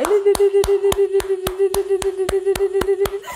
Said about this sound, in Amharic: እስቲ ለጌታ እልልታ ጭብጨባ